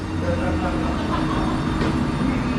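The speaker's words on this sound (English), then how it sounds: "departing now is the 11:38 Transpennine Express service to Manchester Airport from Glasgow Central" A Class 397 TransPennine Express train pulls away from Lancaster station on the West Coast Main Line, a steady loud rumble and hum of rolling stock close by, with no distinct pauses.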